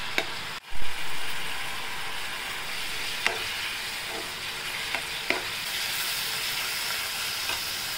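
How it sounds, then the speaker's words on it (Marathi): Spinach stir-fried in hot oil in a pan, a loud continuous sizzle broken by a sharp clatter early on and a few light utensil taps against the pan. "तेलामध्ये चांगलं परतून घेऊया।"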